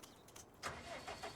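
A tractor engine in Farming Simulator 19 cranks and catches, a brief rising start amid faint game ambience, followed by a few soft mechanical clicks.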